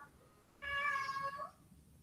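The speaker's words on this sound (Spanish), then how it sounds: "Otra vez mi gato." A domestic cat gives a single drawn-out meow, close and clear, from about 0.6 to 1.5 seconds, set against a quiet room with no talk.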